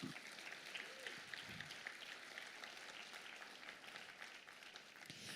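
Audience applause at an awards gala, heard faint and distant as a steady, dense wash of many hands clapping throughout, with no speech over it.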